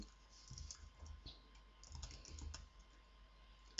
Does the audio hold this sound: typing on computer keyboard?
yes